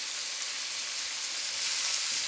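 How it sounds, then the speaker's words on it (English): Bacon sizzling and frying in a pan on a propane stove inside an RV, a steady close, bright hiss that swells slightly near the end, with no voices. "So we're going to cook this bacon till it is not quite crispy"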